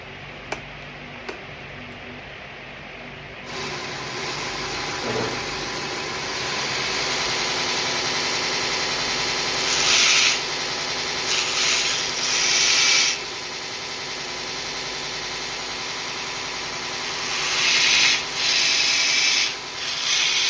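Grinder flattening and reshaping a knife blade, with a steady, loud whirring hum that keeps running and swells into harsher grinding bursts several times as the steel is pressed against it.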